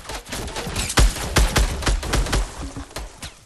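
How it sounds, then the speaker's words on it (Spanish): Rapid bursts of Fortnite Battle Royale gunfire crackle in quick succession, sharp repeated shots echoing loudly with no talking. "¡Sí sabe de dónde vienen los disparos!"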